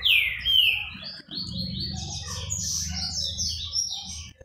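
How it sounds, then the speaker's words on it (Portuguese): A collared seedeater sings a bright, rapid run of whistled phrases, close and clear over a low background hum, with a short pause before the song resumes steadily. "O coleirinho tá lá cantando."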